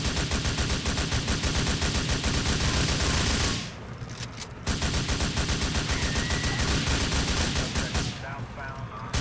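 Sustained rapid rifle gunfire in GTA IV, loud and dense, with a brief lull near the middle before the shooting resumes; no talking.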